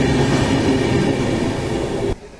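A Duronto Express train rumbles loudly and steadily on the rails at Thalassery railway station, a continuous low roar that cuts off abruptly near the end.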